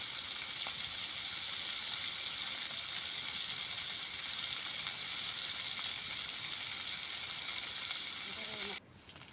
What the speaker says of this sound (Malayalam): മറിച്ചിട്ട് മറ്റേ വശമൊന്ന് നമുക്ക് വറുത്തെടുക്കാം